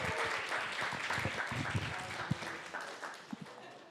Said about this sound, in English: One last round of applause for Kainoa.